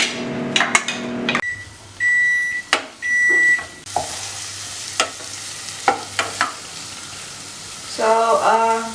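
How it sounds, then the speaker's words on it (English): Chopped onions are tossed into melted butter in a pan for risotto, bringing a soft sizzle under sharp clinks and scrapes of a utensil, with a couple of electronic beeps and a short stretch of stirring near the end. "So butter has melted. Now we'll throw in the onions."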